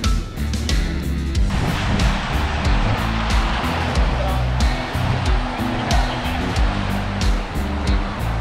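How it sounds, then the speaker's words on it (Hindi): Ocean waves at Kund Malir beach in Balochistan, a steady broadband wash of surf rolling continuously, loud and close, with a low rumble under it and no pauses between breakers. "लहरें ठंडी ठार, पानी ज़बरदस्त"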